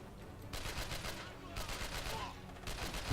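Bursts of gunfire from the video game Manhunter sound in short rapid volleys separated by brief pauses, fairly quiet overall with a faint voice underneath.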